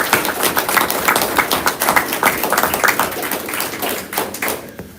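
People at a school board meeting clap for the teachers, a close, lively round of applause with distinct individual claps rising and falling before it thins out near the end.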